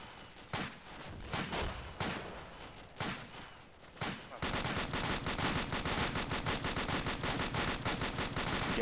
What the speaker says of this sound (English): we got two more guys firing at friendlies